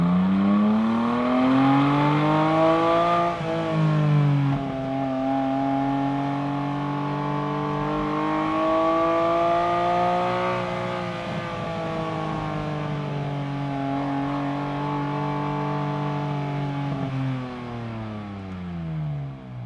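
A 2024 Porsche 718 Spyder RS with a naturally aspirated engine, revving loudly and steadily as the pitch climbs and falls across several long pulls, close and sustained with no voices.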